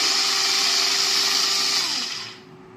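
A Pigeon Zoom electric chopper runs during a test with a steady, close motor whir and a high whine. The motor then spins down and cuts off near the end, and no one speaks.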